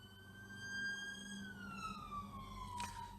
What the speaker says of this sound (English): ambulance shoots past